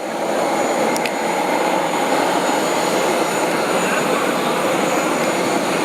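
A loud, steady airplane roar fills the whole clip without change, and no voices are heard.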